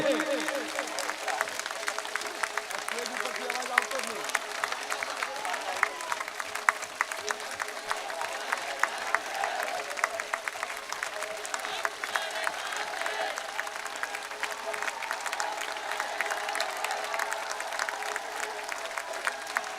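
Sustained applause from a big rally audience in Banaskantha, Gujarat keeps going for a long stretch, a thick steady patter of many hands with a voice talking over it at times.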